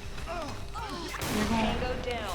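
SIG551 rifle fire in the video game Special Force 2, sharp shots with a booming crack and rumbling echo amid whistling, chirpy game sounds and faint distant firing.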